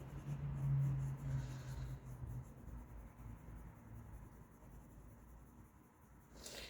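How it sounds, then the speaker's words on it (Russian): A colored pencil shades on paper in soft, continuous scratchy strokes close by, steady and fairly quiet throughout. "Карандашиком очень удобно тень разводить"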